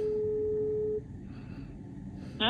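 An unanswered phone call gives one steady ringback tone lasting about a second, then the line goes quiet apart from faint background noise, and a sharp sound comes at the very end.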